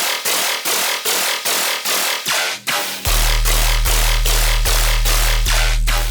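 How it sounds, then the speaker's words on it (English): Dubstep sub bass loop processed with sidechained Flutter distortion, a loud, gritty rhythmic texture pumping in regular pulses, then shifting to a steady heavy low drone with periodic ducks in the second half; no talking. "So when I add Flutter to it and sidechain it through,"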